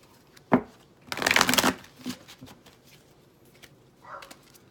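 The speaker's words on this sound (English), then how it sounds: "I absolutely love shuffling this deck" A worn deck of cards is riffled and shuffled close up, a brief snap followed by a longer burst of flapping cards, then softer handling sounds.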